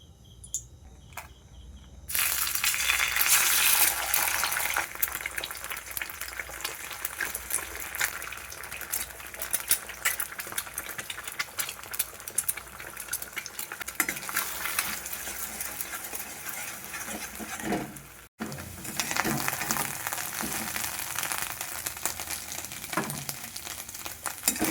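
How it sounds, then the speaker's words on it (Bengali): Egg frying in a pan while cooking chowmein at home, a steady close sizzle and crackle of hot oil running throughout, with brief clatter near the start and a short break about two-thirds of the way through. "ততক্ষণ আমি এদিকে ডিমটাকে ভেজে নিই"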